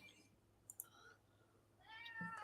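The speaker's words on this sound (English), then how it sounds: "I hear the cat's complaining, Constantine." A cat meows faintly in a room during a tabletop game session: a couple of quiet, brief meows and a slightly stronger one at the end, over low background noise.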